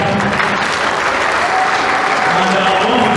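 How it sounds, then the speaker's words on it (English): An audience at a Moghamo cultural heritage launching ceremony applauds and cheers a young man, with dense, sustained clapping that stays loud and steady throughout, mixed with crowd noise. "I want us to give him an applaud."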